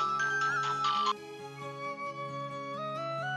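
A mobile phone ringtone in a film scene, a bright electronic melody of steady repeating tones, loud and close, playing alone with no talk.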